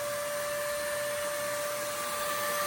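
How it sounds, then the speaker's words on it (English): A shop vacuum runs steadily with a constant high whine, drawing yellowjacket wasps from a soffit nest up a pole into a collection device; the drone is loud, close and unbroken. "running the vac up the pole to the collection device"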